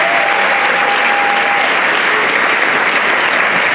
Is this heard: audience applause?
yes